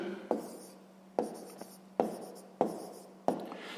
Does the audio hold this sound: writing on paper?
yes